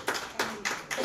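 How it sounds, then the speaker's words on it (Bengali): Four separate bursts of hand clapping, a short round of applause answering a call to cheer at a televised public birthday celebration, moderately loud with no talk over it. "একটা জোরে হাততালি হোক প্লিজ সবাই মিলে।"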